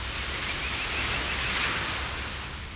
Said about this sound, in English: hear the waves. Even they sound different every day.